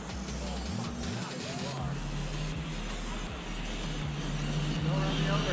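Motor of an X-Maxx RC monster truck whining at full throttle, a steady buzzing drone with rising and falling pitch sweeps as the truck races, with people talking over it throughout.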